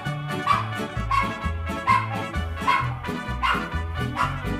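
A cartoon dog barks in a steady repeating rhythm, about one yap per second, loud and close over a rhythmic musical backing.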